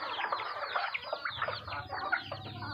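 Several chickens cluck and squawk in quick, overlapping calls during feeding, close by, with a low rumble underneath.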